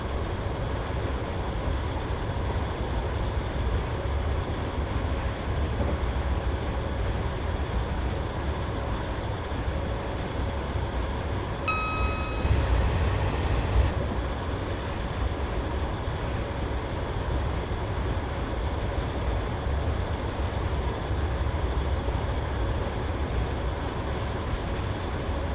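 Class 320 electric train running under power in Train Simulator 2015 on the Glasgow Central to Lanark route, a continuous low rumble and motor hum with a steady drone, a brief tonal blip partway through.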